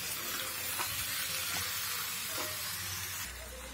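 Olive pickle ingredients get mixed in a hot pan, giving a steady frying sizzle with a few soft stirring scrapes that drops slightly quieter at the end, with nobody talking.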